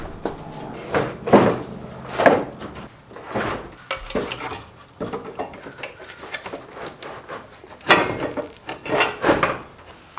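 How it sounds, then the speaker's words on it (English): Bumper cover being fitted back onto a Mustang GT, producing a string of close plastic knocks, rubs and clunks in irregular bursts, with no talking. "Anyway, let's get the bumper back on."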